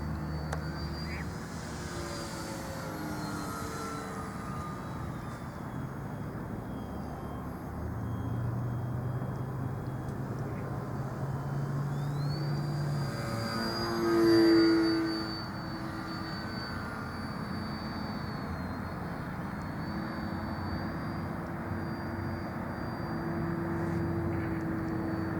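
A small model airplane engine drones steadily at a distance, faint and continuous in an open outdoor setting, with one short louder pass midway.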